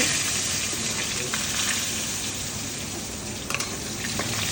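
Potatoes go into hot oil already sizzling with cumin seeds for a fish curry, and a steady bubbling fry hiss runs throughout, with a few faint clicks and a brief clatter near the end.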